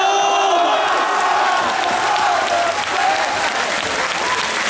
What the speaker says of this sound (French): Applaudissements pour tout le monde.